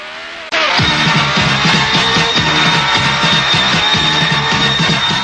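Race cars start the Italian Grand Prix: after a brief quieter moment, a loud dense roar of many engines suddenly erupts, with repeated pulsing engine notes as the field pulls away.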